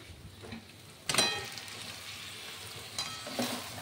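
Potatoes dropped into hot oil in a pot of mutton curry, with a loud sudden sizzle burst and stirring clatter that settles into a steady frying hiss, plus a couple of smaller spatula scrapes later.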